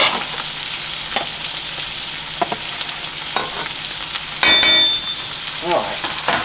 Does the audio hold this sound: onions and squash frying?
yes